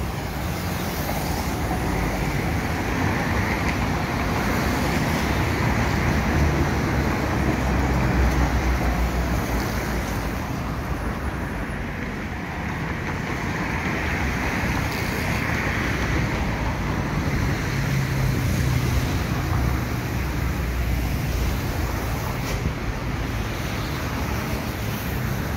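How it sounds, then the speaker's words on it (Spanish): A repaired coffee shaker screening machine with motor and belt guard runs continuously, a dense, even rumbling roar with steady rattling and no pauses. "aquí vemos trabajando lo que es el monitor que reparamos, organizamos en Industria Haber"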